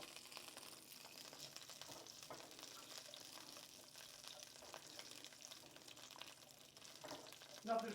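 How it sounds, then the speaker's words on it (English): Faint, steady sizzling of food frying in a pan, a soft crackling hiss that continues throughout with no talking. "They're starting to sizzle."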